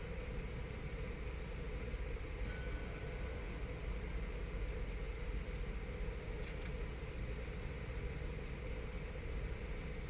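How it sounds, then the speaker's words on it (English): A submarine's diesel motor runs in the UBOAT video game, making a steady low mechanical drone that hums on without change, with no voices over it. "I have my diesel motor on, so I am making noise."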